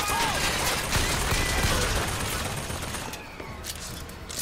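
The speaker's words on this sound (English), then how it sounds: "Somebody's shooting at me again." Gunfire aimed at the player in the video game Bioshock Infinite, a dense, continuous spray of shots and bursts filling the whole stretch at steady loudness, easing slightly toward the end.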